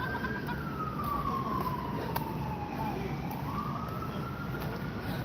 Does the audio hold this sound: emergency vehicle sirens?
yes